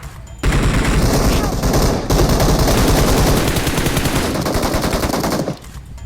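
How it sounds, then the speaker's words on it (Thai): Loud, sustained automatic gunfire from PUBG Mobile rattles in a dense, continuous burst lasting several seconds, then cuts off to a quieter background. "ข้างหน้ามีคนยิงกันเดือดเลย"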